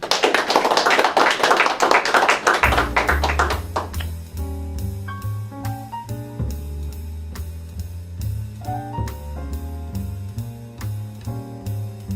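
Dense audience clapping at a live talk-show taping, loud and close for the first few seconds, then giving way to sustained musical tones that carry on to the end.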